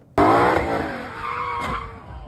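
2024 Ford Mustang GT (S650) engine bursts in with a loud revving roar and tire squeal, then drops to a steady drone and surges again, close up.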